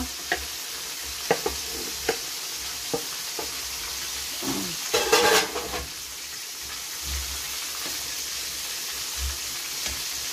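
Cabbage is tossed and stirred in a hot pan for pancit bihon, with a steady low sizzle under scattered clanks and scrapes of the spatula and a brief louder burst of sizzling midway.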